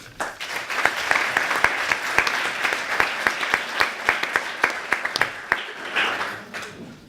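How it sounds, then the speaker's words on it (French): Audience applause after a speaker at an eloquence contest between two clubs, with sharp individual claps standing out over steady clapping that holds for several seconds before easing at the end. "Donc on peut t'applaudir"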